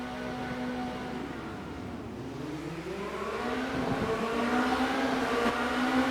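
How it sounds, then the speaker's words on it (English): Formula Renault 2.0 race car engines in a racing video game drone together at the start at Montreal, pitches rising and overlapping as they rev, growing gradually louder over a steady background. "The engines begin to rev up."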